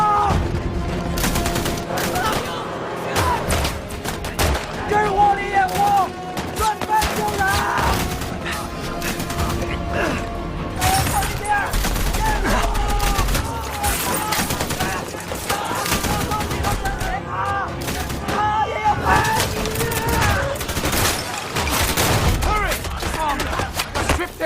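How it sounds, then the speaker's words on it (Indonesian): Dense gunfire from Japanese snipers in a wartime battle over Shanghai, with loud overlapping shots and bursts of rapid fire sustained over a continuous rumbling battle soundscape, mixed with music and occasional voices. "kelompok pertama yang maju yang dipimpin langsung oleh Kolonel Xie menjadi samsak tembak dari para sniper-sniper Jepang."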